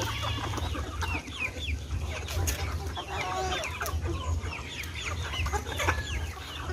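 Several chickens clucking and chattering nearby, overlapping calls in a busy farmyard with a low hum in the background.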